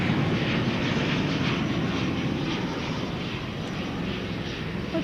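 An American Airlines jet in retro livery at DFW Airport at night produces a steady, unbroken broadband engine roar that fills the whole stretch and fades only slightly toward the end.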